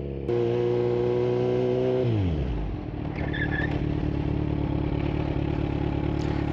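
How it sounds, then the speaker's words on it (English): A Kawasaki Z900 motorcycle with steel brake lines slows from 25 mph on the rear brake alone, its engine note dropping sharply in pitch as it decelerates, then settling into a steady idle rumble nearby. "let's try 25 miles an hour, and let's just do the back brake"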